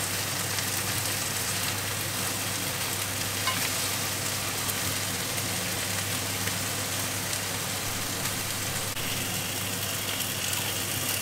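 Food fries steadily in a pan while the cook checks that the second side is browning and the insides are still undercooked, giving a continuous close, dense sizzle and crackle that holds evenly throughout with no talk.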